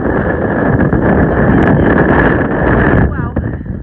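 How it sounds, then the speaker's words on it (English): Strong wind gusts across an open stretch of the Continental Divide Trail, buffeting the microphone with a constant, heavy low roar that eases slightly near the end. "It's windy every time I come to an open area"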